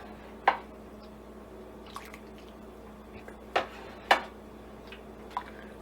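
Turkey broth being taken out of the cooking pot for gravy, heard as a few sparse, distinct drips and splashes of liquid over a quiet low hum, spaced irregularly.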